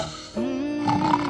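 A single drawn-out snore, a rough nasal rumble that rises into a buzzing snort, close and fairly quiet.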